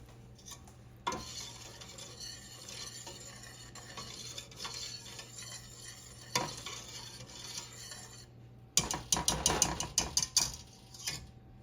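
A chocolate peanut butter mixture for no-bake oatmeal cookies bubbles and sizzles steadily in a pot, followed by a run of clinking spoon and pan knocks near the end.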